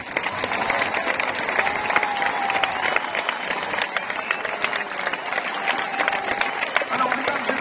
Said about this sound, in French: C'est ça, les applaudissements.